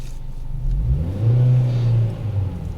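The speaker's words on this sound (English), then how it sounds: "the engine is very, very, very okay. The engine is very sound." A Peugeot 406 EW10J4 petrol engine idling nearby revs up once, holding a smooth rising drone for about a second before settling back to idle.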